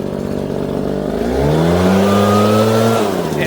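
ProRun PBB2884 backpack leaf blower engine revving up from a steady run, pitch climbing and holding high before easing back, loud and close with no talk over it.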